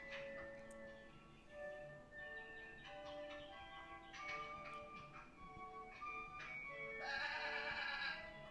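A goat bleats repeatedly in wavering, nasal cries, several calls in a row at moderate distance over a faint background.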